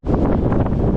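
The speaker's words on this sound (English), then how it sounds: "Yes, it's definitely windy." Gale-force wind buffets the microphone outdoors during a long run, a loud, continuous rumbling roar with gusty swells and no speech.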